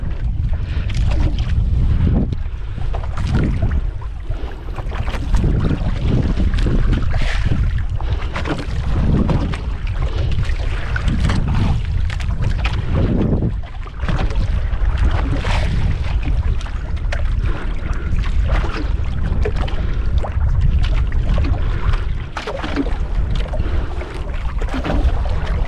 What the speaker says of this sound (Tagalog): lakas ng takbo ng bangka natin oh, hinihila.